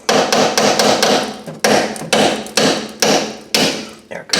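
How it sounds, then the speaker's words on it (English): Hammer tapping a bolt into the rear brake assembly of a 2008 Hyundai Elantra: about nine sharp metallic blows in a steady, evenly spaced rhythm, close and loud. "Once you get that bolt started, you can tap that bolt."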